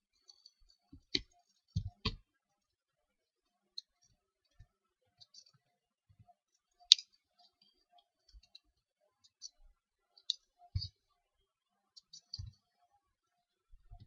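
Sparse computer mouse clicks in Visual Studio while adding a MySQL reference, isolated sharp clicks and a few quick double clicks spread irregularly over near silence.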